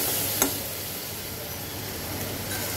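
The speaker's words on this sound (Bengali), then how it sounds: "এবার নেড়ে দেব।" Prawn masala sizzles steadily in a pan as it is stirred, a close, even hiss of frying with a brief scrape near the start and no talking.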